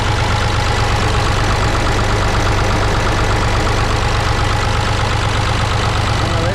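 A Ruston Bucyrus 10RB excavator's diesel engine runs at a steady, loud, close idle with an even knocking chug that continues unbroken throughout.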